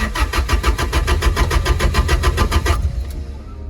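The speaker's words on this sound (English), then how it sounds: "I love the way this thing starts" A Toyota KE70 cranks in a fast, even rhythm for a few seconds, then catches and settles into a low idle, loud and close with no one talking.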